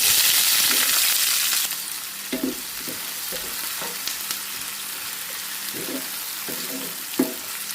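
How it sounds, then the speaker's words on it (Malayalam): Chopped onion dropped into a little hot oil in a pan, starting with a loud sizzle that settles into a steady frying hiss, with occasional close clinks and scrapes of stirring. "നമ്മൾ ഒനിയൻ കട്ട് ചെയ്ത് വെച്ചിരിക്കുന്നത് ഇട്ട് കൊടുക്കാം"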